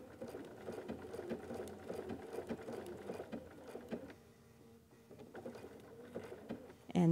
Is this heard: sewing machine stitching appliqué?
yes